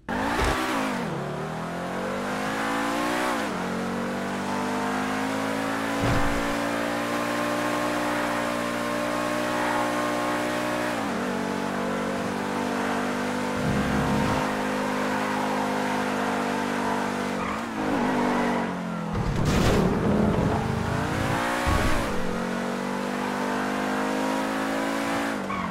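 Supercar on a test drive in a video game, its engine droning and revving steadily across the whole stretch, with repeated gear shifts and dips in pitch, brief tire squeals, and no talk.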